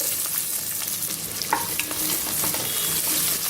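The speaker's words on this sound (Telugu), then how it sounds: "ఉల్లిపాయ ముక్కల్ని ఒక రెండు నిమిషాలు ఫ్రై చేసుకోవాలండి" Chopped onions, green chillies and bay leaf fry in oil for tomato rice, a busy sizzle broken by the scrape and clatter of stirring, with no voices.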